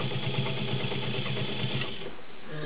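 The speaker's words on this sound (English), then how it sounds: "There you go, sewing through denim." A vintage dark salmon Kenmore model 35 sewing machine stitches through denim, a fast, steady mechanical clatter heard up close that runs almost without a break before slowing slightly at the end.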